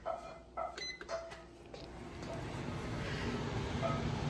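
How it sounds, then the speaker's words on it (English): A few faint beeps and clicks at first, then an air purifier hums with a steady, even airy rush that continues to the end. "The air purifier, look at that."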